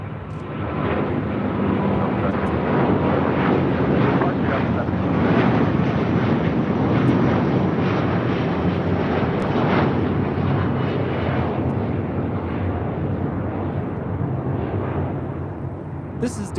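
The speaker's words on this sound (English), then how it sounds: "This is Delta Airlines Flight 7 taking off to Tokyo, Haneda on a 1-year-old A330 Neo" A one-year-old Delta Airbus A330neo takes off from LAX runway 25 right bound for Tokyo Haneda, a steady, loud broadband engine roar holding throughout with wind buffeting the microphone.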